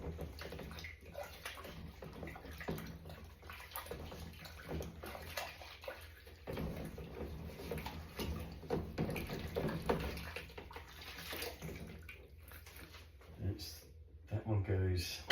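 A plastic Tupperware container that held chicken being washed under running water at a kitchen sink, continuous splashing and sloshing with clatter near the end, while a person talks over it.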